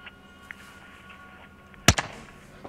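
A single sharp gunshot in Call of Duty Modern Warfare 2 campaign gameplay, a loud crack with a short echo, standing out over a quiet background hum and faint distant pops.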